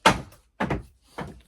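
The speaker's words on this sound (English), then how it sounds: "smacking the crap out of the door frame with her tail." A dog's tail smacks against a wooden door frame indoors, three loud hollow thumps about half a second apart, each ringing briefly before the next.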